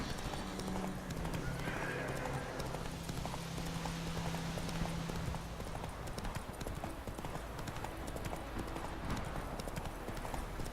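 Steady clip-clop of horse hooves at a gallop in The Witcher 3: Wild Hunt, with a horse whinnying early on, continuous and fairly close over a busy background.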